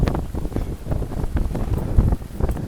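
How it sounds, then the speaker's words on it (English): Strong wind buffets the microphone at a Palm Beaches beach, a steady loud roaring rumble with no voices. "I did not expect it to be this windy today."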